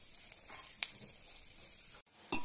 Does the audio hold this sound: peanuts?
yes